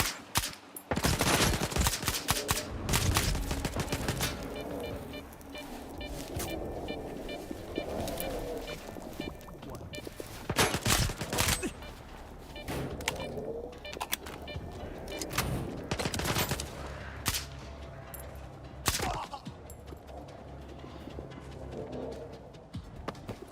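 Gunfire breaks out in a survival video game: a dense volley of loud, close shots at the start, then scattered bursts and sharp cracks over rumbling background action, with occasional voices.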